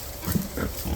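A coarse-haired farm pig being scratched gives a few low grunts, close and moderately loud, in short bursts spread over a second with no talk.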